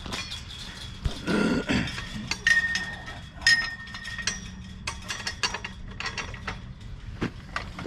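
Nuts and bolts being fitted and tightened on a U-bolt of a chain link slide gate, giving faint scattered metallic clinks, taps and ratcheting clicks that are irregular and close by.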